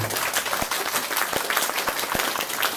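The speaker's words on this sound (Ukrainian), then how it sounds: "Я хотів, щоб ви оплесками підтримали цю пропозицію." Audience applause at a civic gathering in Dolyna, Ukraine, following a call to back an honorary-citizen nomination; a steady, moderately loud wash of many hands clapping, with a few sharper individual claps standing out.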